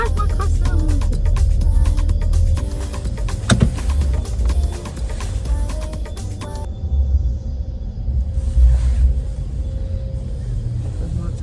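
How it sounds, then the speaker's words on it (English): A car driving with a low, steady rumble and droning hum from the road and engine. The sound is continuous and fairly loud, and the tone thins out partway through. "Why is my car sound like this?"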